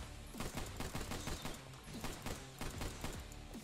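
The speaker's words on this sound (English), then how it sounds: "Pistol action. Bam, just like that." Pistol fire in the shooter video game Bright Memory: rapid bursts of sharp gunshots in quick succession, loud and up front, with no talk.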